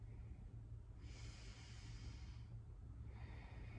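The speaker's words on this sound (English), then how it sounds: "And then exhale down." A slow, breathy exhale during a Kundalini yoga exercise, a soft airy rush through the nose lasting over a second. It sits faint and close above a low steady hum, with a second breath starting near the end.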